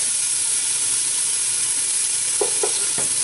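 Green beans fry in a pan for a sweet and sour dish, giving a steady, even sizzle throughout, with a few short stirring scrapes near the end and no voices.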